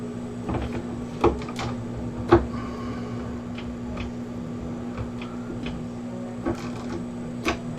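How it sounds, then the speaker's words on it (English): Soft metallic ticks and clicks of a nut being tightened on a RepBox2 assembly, with a few sparse, close taps over a faint steady hum and no speech. "I'm just finishing up the last tightening of the last nut on this."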